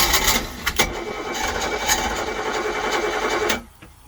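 Boat or vehicle engine with a new carburetor on its first cold start of the day, a loud steady rough mechanical running drone close by that cuts off abruptly near the end, no talking.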